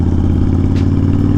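A Honda Fury motorcycle fitted with a Cobra Speedster exhaust, Powerflo air cleaner and FI 200R tuner runs close and loud with a steady throbbing engine note and a brief shift blip midway.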